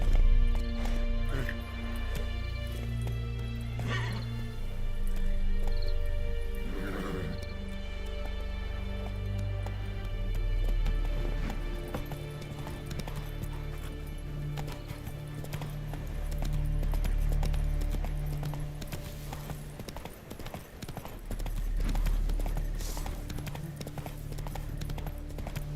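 A horse gallops and clip-clops in The Witcher 3 video game, with steady hoof beats and an occasional whinny running under game music and ambience.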